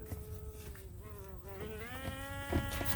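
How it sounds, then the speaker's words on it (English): A bee buzzes near the microphone in a shifting, wavering drone for a few seconds, fairly faint, in a garage where a 1951 Chevy is being built. "Oh, there's a bee here."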